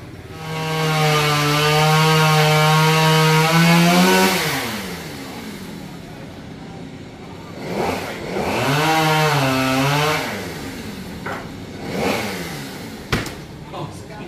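A chainsaw cuts into a Bã Đậu tree trunk in a cramped spot. Its engine holds a loud high whine, drops off, then revs up and down again in bursts, with voices faintly in the background.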